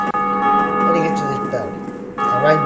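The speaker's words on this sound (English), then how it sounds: "Ring that bell." A bell rings in Dark Souls Remastered, a sustained metallic tone with lingering overtones that carries for a couple of seconds, with a second strike near the end, mixed with game ambience.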